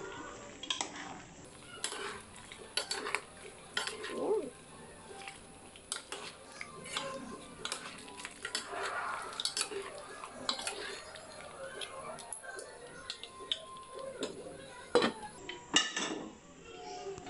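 A spoon scrapes and clinks against a metal pot while chicken curry seasoned with Knorr cubes is stirred, giving faint, irregular taps and scrapes under quiet talk.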